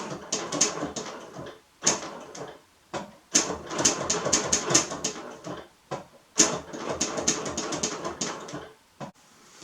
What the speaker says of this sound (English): I'm going to start quilting very, very slowly.